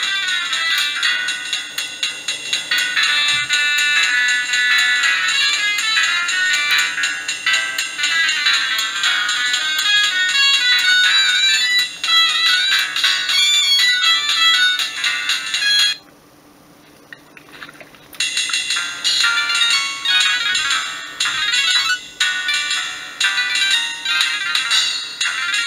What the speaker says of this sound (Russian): это формат MMF, который позволяет на полифонические мелодии еще и голоса и прочие звуки